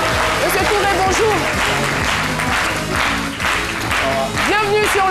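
Studio audience applause on a midday television talk show, loud sustained clapping mixed with music, while a host speaks over it.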